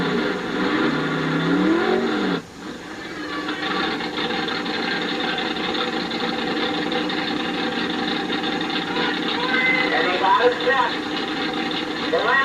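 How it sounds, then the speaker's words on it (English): A Camaro race car at a 1982 ice drag race revs and runs, its engine droning loud and steady with a rising, shifting pitch near the start and a commentator talking over it throughout. "Tony Bowman will bring this Camaro back around."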